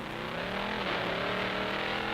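A 1963 Studebaker Avanti speeds flat out on a record run across the Bonneville salt flats, its engine roaring steadily and loudly throughout with a continuous high-speed drone and no voices.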